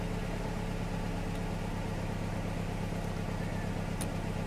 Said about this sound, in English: start up the engine, and this is a poorly engine. Three cylinders. It's supposed to have four